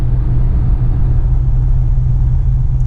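A 1937 Packard 120 engine pulls smoothly while driving, a steady, loud low rumble with an even drone and no talk over it.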